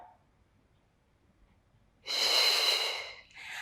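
A strong, breathy exhale during an advanced Pilates mat workout, rising sharply after a quiet start, close and loud for about a second and a half, then a softer second breath trailing off.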